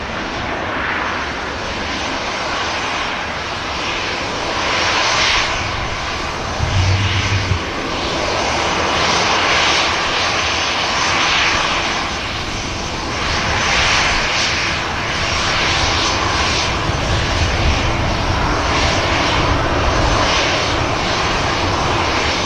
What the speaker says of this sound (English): The Ryanair has just landed.